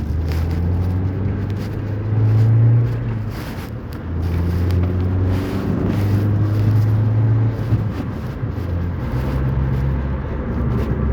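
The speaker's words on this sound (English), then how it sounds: "the car that I'm driving right now" Steady low engine drone and road rumble inside a moving ZR car, continuous with slight swells in level and some wind buffeting, no talking.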